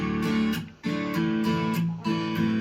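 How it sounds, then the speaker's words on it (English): A virtual acoustic guitar plays chords strummed in a steady rhythm, bright and close, with short pauses between strums. "I bought in a virtual acoustic guitar that sounds like this."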